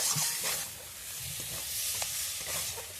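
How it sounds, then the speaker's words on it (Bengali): Pointed gourd sautéed and stirred with spices in a pan, a loud, continuous sizzle with soft scraping strokes of a spatula, close and without talk. "পটলটাকে মশলার সঙ্গে ভালো করে কষিয়ে নিয়েছি।"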